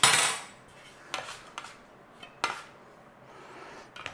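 A dough scraper scrapes slightly tacky lentil bread dough off a counter in a few short, sharp metallic strokes, with a loud scrape at the start and quieter scrapes after it, close up and with no talking.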